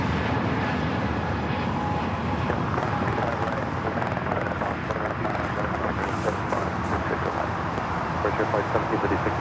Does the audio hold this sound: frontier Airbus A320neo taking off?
yes